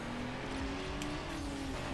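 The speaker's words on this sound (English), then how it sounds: "Oh, why am I over-revving?" A car engine in the racing video game Need for Speed: Underground drones at high, over-revving pitch, holding a steady strained tone throughout under constant game noise.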